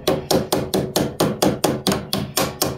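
Sharp, evenly spaced hammer taps knock parts down during repair of a DeWalt 735 planer's feed rollers, about a dozen close, loud strikes in a quick steady rhythm with nothing else heard.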